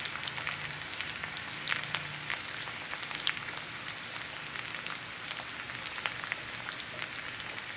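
Potatoes and onions fry on high heat in a pan, a soft steady crackle and sizzle with scattered pops, quiet and continuous with no talking.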